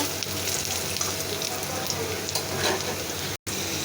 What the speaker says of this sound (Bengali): আমি তেল দিয়ে দিচ্ছি পেঁয়াজটা একটু লাল করে নিব